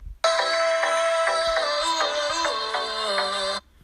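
A song plays from an iPhone running iOS 11, a bright tonal melody with steady rhythmic notes, loud and close, starting abruptly and cutting off near the end with no talking over it.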